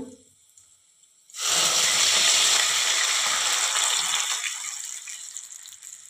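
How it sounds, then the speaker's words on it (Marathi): A loud sudden sizzle bursts out and continues steadily as spices fry in hot oil, slowly easing toward the end. "इथे आपली फोडणी एखाद मिनिटभर छान अशी परतली गेलेली आहे"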